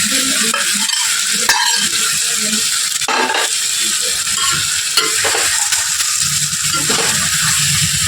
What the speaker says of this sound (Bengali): এবার আলুগুলো দিয়ে ভালো করে এর সাথে কষিয়ে নেব